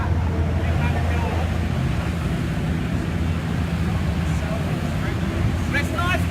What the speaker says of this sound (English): Let's have a little squeeze of what we got on the dyno here.